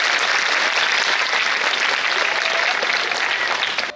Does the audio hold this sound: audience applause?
yes